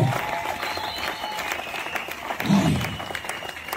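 Audience at a 30th wedding anniversary celebration applauds with scattered cheers, a steady wash of clapping that swells briefly near the end, with some voices in the crowd.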